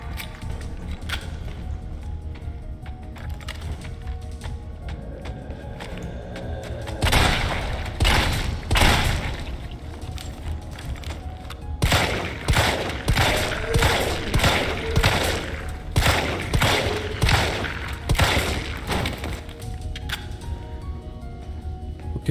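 Gunfire in the Resident Evil 3 video game, with bursts of heavy booming shots in rapid clusters over a low game soundtrack, the firing densest in the second half.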